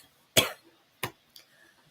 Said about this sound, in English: it started me coughing